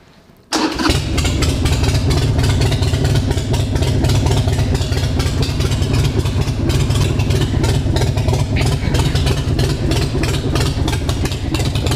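A motorcycle engine, a bike slated to become a flat track build, fires up on the choke after a brief quiet moment and then settles into a loud, steady idle with a continuous throbbing rumble close to the microphone.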